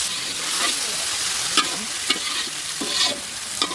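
Spice paste of ground dried chilli, garlic, ginger and cumin with turmeric, salt and chopped tomatoes fries in oil for a village garfish curry, a steady close sizzle broken by a few scraping stirs.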